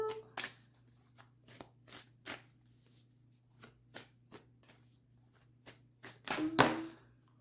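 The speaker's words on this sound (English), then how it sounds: "let's pull a Divine Feminine Oracle card here for Leo" Oracle cards from a Divine Feminine deck being shuffled by hand in a quiet room: a run of crisp, close riffling bursts spaced irregularly, ending in a louder, fuller flurry, with no talking.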